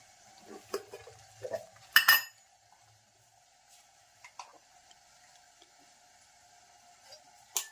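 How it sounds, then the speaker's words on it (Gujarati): Jaggery is worked together with wheat and coconut powder for sukhdi, sparse scraping and clinking of a spoon against a metal pan, quiet between a few sharper knocks and taps. "મીઠનો પાવડર અને કોપરાનો પાવડર અને ગોળ મિક્સ કર્યો"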